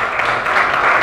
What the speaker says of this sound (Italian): gli facciamo un applauso anche se non c'è.